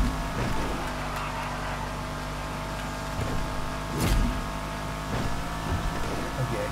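A car in GTA 5 accelerates hard through its gears, the engine note climbing and dropping with quick shifts, loud and close under steady game sound.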